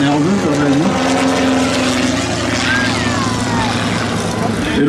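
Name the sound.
light propeller aircraft flying at an air show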